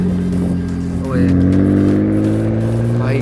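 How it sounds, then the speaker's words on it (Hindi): A McLaren 720S Spyder or Porsche GT3 RS sports car idles and revs loudly at close range, its exhaust droning with pops and crackles as the pitch climbs, while people talk nearby. "भाई गाड़ी के क्रैकल्स।"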